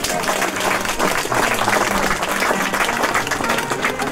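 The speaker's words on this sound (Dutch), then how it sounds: "Geef dit orkest een geweldig applaus" Loud, dense applause from an audience at a choir day by a windmill, a crowd clapping steadily for a senior orchestra throughout, close and full.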